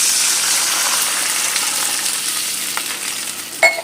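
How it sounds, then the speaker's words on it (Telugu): Water poured into a hot pan while cooking sprout pesarattu upma gives a loud, hissing sizzle that gradually fades, ending in a short clink. "1 కప్పుకి 4 కప్పులు వాటర్ వేసుకుంటున్నాను"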